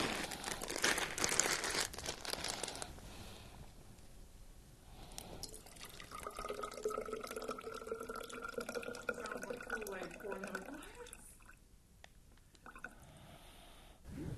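A corner of a plastic bag is cut and melted ice water drains out, with crinkling plastic followed by a steady trickle and dripping of water into a container, under occasional talk.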